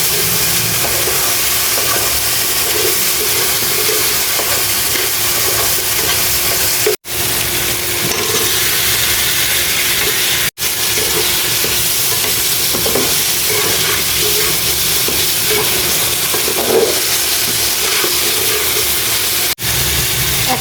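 Fish spices and a torn bay leaf frying in hot oil in a pan after eggplant, a loud continuous sizzle and spatter with stirring, broken by a few short dropouts, no voices.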